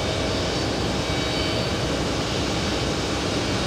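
A KLM airliner's engines roar steadily as it moves along the ground, a loud, dense, unbroken jet rumble that stays constant throughout with no voices.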